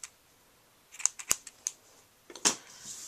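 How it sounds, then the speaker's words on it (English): Scissors snip ribbon for a Halloween treat bag bow in a series of sharp, close cuts, several quick snips followed by a louder pair, with no talking. "Alright, so I'm just going to snip this."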